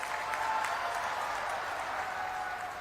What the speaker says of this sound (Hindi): सभी लोग जगदीशपुरी महाराज जी के लिए जोर से ताली बजाइए जरा।